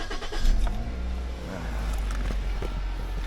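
A car is started and left idling in a steady low engine rumble heard from outside the vehicle, close and continuous, with a brief word of speech at the start.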